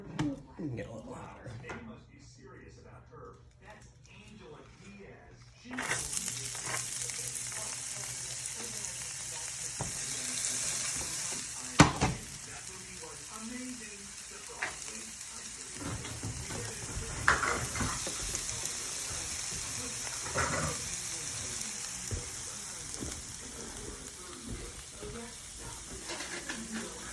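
Onions and shallots hit hot olive oil in a pan and break into a loud, steady sizzle that holds for the rest of the clip, with occasional stirring and clinks from the pan.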